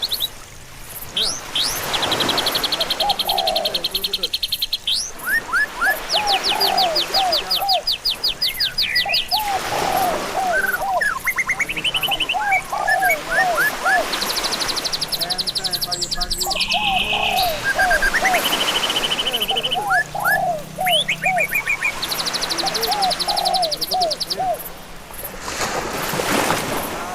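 Javan mynas (jalak) chirping and whistling in repeated bursts of bright, close calls, with trills and sharp tweets recurring throughout over steady background noise; no talking.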